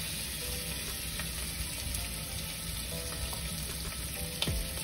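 Chicken frying in curry-flavoured oil in a pan, a steady, close sizzle with occasional crackles and a clink of utensils, no talk.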